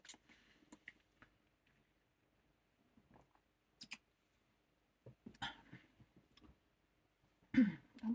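A person clears their throat and coughs in a few short, sharp bursts, scattered across otherwise quiet moments, with the loudest, harshest bout near the end.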